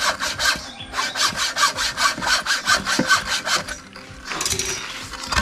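A wooden stick for a homemade chair is cut with a hand saw in quick, regular rasping strokes, about a dozen back-and-forth passes heard up close, then a brief pause and a few more rough strokes at the end.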